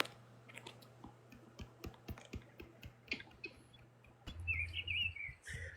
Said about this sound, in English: It's just so peaceful listening to the birds.